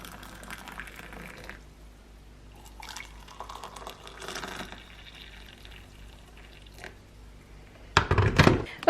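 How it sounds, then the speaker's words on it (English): Boiled kettle water is poured onto fruit tea infusions of lemongrass, turmeric and red berries. Faint dripping and trickling runs through most of the stretch, then a loud, close splashing pour comes at the end. "so let's get the water in there"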